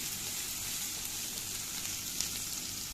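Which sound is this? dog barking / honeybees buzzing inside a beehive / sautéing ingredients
sautéing ingredients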